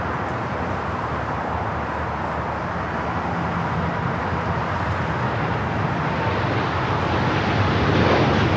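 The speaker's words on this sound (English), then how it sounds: "the Dreamliner rolling down to 25 right" A Boeing 787-9 Dreamliner of United Airlines rolls down runway 25 right at LAX, a loud, steady jet engine roar that swells slightly toward the end and holds without a break.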